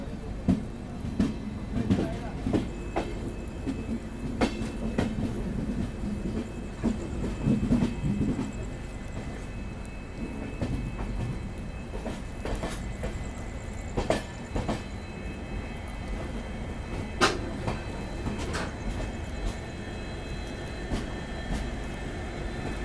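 The Sairang Rajdhani Express rolls into New Jalpaiguri Junction in rain, a steady low rumble with intermittent clicks and clacks of wheels over rail joints, heard from aboard the train.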